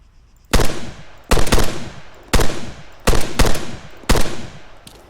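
Warning shots are fired in the video game Arma 3 Altis Life. Five loud, sharp bursts of gunfire are evenly spaced and close, each ringing out briefly over a low background.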